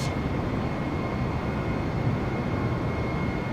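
Steady, loud, unbroken engine roar of a Jetstar airliner in Microsoft Flight Simulator, with a faint high whine running through it and no voices.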